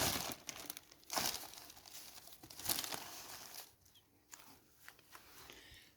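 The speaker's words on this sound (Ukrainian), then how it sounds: "в цьому пакеті в нас коріння кропиви" A plastic bag holding dried nettle roots crinkles and rustles in bursts while it is handled for weighing, louder at first and then softer, with no talking.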